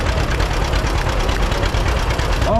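Steady low, rapid chugging of a 1940 John Deere B tractor engine running close by during an outdoor parade, loud and continuous with no talking.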